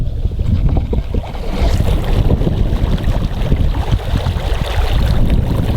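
A homemade ice eater, powered from a truck battery, churns lake water through a hole in the ice, giving a loud, continuous sloshing and rumbling surge mixed with outdoor wind noise.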